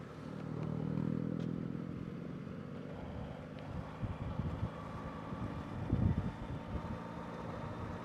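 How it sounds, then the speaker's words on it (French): A motorcycle rides past along the route of a road cycling stage race, a broad engine rumble swelling and fading over steady wind noise, with a louder surge of mechanical clatter midway through. "il y a une moto"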